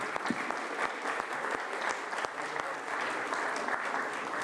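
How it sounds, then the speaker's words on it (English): A crowd at a volunteer recognition ceremony applauds after the Pledge of Allegiance, a continuous wash of clapping with a few sharp individual claps standing out, fairly distant and even throughout. "Let's give them a round of applause."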